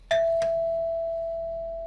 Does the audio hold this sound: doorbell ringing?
yes